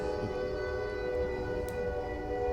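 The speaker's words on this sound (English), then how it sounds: "the train is just blasting all over my audio files." A loud, sustained horn blast with steady layered tones holds for the whole stretch over a rumbling low background, like a train horn sounding outdoors nearby.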